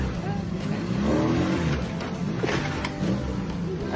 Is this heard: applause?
no